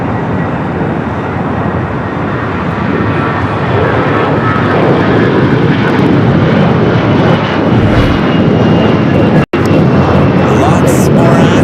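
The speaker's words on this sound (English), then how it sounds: "Alaska flight rolling it down at 24 left" An Alaska Airlines Boeing 737 MAX 8 takes off on runway 24 left at Los Angeles airport, a loud, sustained jet roar swelling and holding steady throughout, with a brief dropout near the end.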